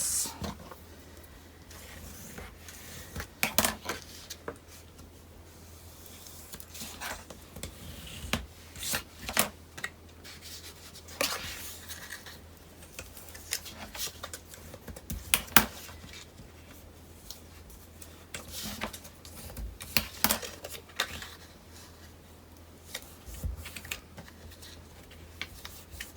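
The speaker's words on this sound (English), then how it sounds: "So now I will fold my fold lines." Paper folded along pre-creased fold lines for a paper magic trick, soft scattered rustles and sharp creasing snaps spread irregularly, close and faint, with no talk.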